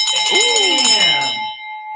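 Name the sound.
bell being rung to celebrate a closed deal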